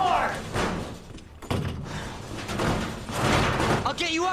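Heavy thuds of a door being banged in the Resident Evil 2 demo, recurring under frantic shouting voices that dominate the foreground.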